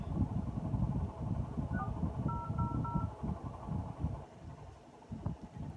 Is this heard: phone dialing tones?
yes